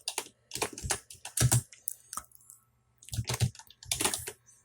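Computer keyboard typing in bursts of quick clicks, grouped into several clusters with short pauses between them, fairly close and clear with no speech over it.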